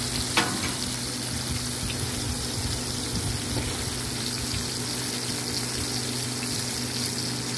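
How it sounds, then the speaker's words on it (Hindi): Beef steak with onion and chilli frying on a large flat tawa griddle, a steady broadband sizzle holding throughout with faint low hum and an occasional scrape, moderately loud and unbroken with no talking. "ये देखें ये बड़ा सा तवा है इसमें इसको बना रहे हैं"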